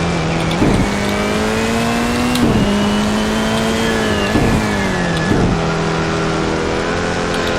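A race car engine drones loudly and steadily in the Roblox game Project Trackday at Hockenheimring, with its pitch rising and falling and brief surges as gears change.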